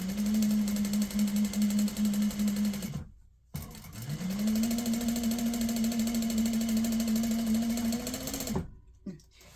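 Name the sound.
sewing machine sewing a quilt block seam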